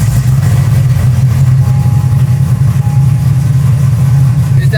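A tuned 700-horsepower Corvette engine idles steadily on its own after a choppy, stalling run, a loud, close, even low rumble with no talk over it.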